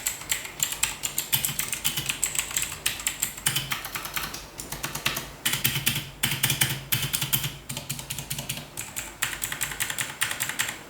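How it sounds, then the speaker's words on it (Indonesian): Rapid, uneven keystrokes on a Gamen Titan III keyboard with no dampening foam, giving a hollow clatter; a steady close burst of typing runs throughout with short pauses between words. "sekarang gue mau nyobain buat typing test"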